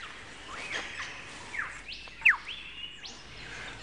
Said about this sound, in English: That wonderful performance is only one example of the extent to which male birds will